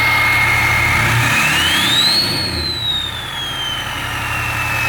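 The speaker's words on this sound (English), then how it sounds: "Let's hear these turbo things. You want to hear the turbo?" A 700-horsepower diesel Ford F-250 runs with its turbo whistling, a loud engine rumble under a high whine that rises in pitch, peaks and slowly falls away.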